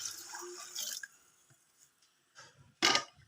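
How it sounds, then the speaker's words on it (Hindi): Chicken yakhni broth being poured onto fried chicken in a pot, a wet splashing pour that fades into a few drips, then a brief burst of sizzling splash near the end, close up with no speech. "चिकन जो है वो यहाँ पे अच्छे से फ्राई हो गया है और जेठानी जी इसमें यखनी ऐड कर रही हैं।"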